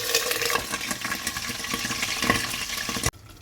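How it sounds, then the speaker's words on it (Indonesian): Boiled chicken liver frying in a shallow layer of oil in a pan, giving a steady broadband sizzle and crackle that continues without pause before cutting off abruptly near the end. "kita lanjutkan untuk menggoreng ati ayam yang sudah kita rebus sebelumnya"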